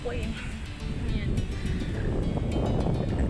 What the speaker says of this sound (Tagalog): Sobrang lakas ng hangin, promise.